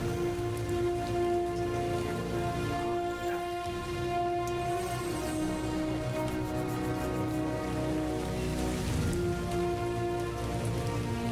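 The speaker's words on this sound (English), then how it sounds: "It's raining." Steady rain pattering on surfaces in the video game ARK, a constant dense drumming of drops heard alone over a sustained tonal background.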